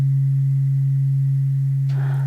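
A weighted Om tuning fork rings with a deep steady hum, sustained and unwavering, close and loud, with a brief rustle near the end.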